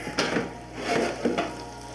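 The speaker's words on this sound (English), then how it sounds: "You hear the sizzle going on?" Bacon-wrapped chicken tenders crackle and sizzle close by in an air fryer, with soft scraping and stirring strokes coming in a few uneven bursts.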